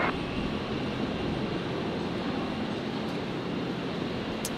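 Virgin Australia Boeing 737-800 arriving at Brisbane airport from Melbourne, a broad continuous jet engine roar holding steady and fairly loud throughout, with no voices.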